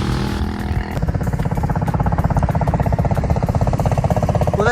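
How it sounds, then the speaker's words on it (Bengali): A motorcycle ridden near the beach in Cox's Bazar under cloudy skies and light rain gives a loud, close, steady engine drone with rapid rhythmic pulsing that runs throughout, with no clear talk over it. "বাইক চালাচ്ছে"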